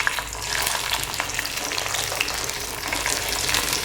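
Cut beans drop into hot oil in a home kitchen pan, a steady crackling sizzle with scattered pops and brief stirring, close and continuous without any voices.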